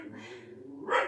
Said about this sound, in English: our dogs will bark until they go